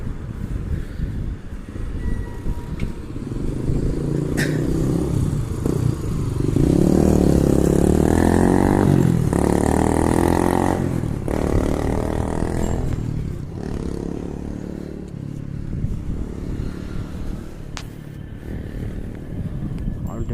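A motorcycle revs up and roars past close by on a city street at a traffic light, rising to a loud peak mid-way and then fading, over steady road noise without talk.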